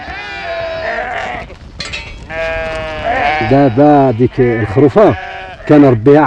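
A trained lead ewe in a mountain flock bleats repeatedly in wavering, quavering calls that come close and loud, some overlapping, across the whole stretch.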